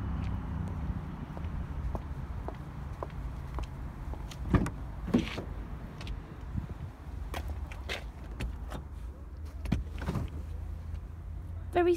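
Electric window motor on a used Ford Fiesta 1.25 Studio three-door hatchback, a low steady whirr inside the car with a few faint clicks and knocks, close and fairly quiet, no talking.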